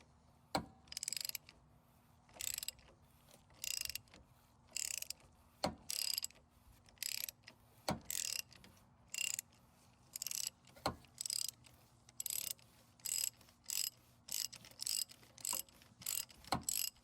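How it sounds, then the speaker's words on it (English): A ratchet on a socket loosens the plastic oil filter housing of a Fiat 500, sounding as close, quiet bursts of rapid clicking repeated many times with short pauses and an occasional sharper tick. "Slide the socket on top of the plastic filter housing and ratchet it off slowly."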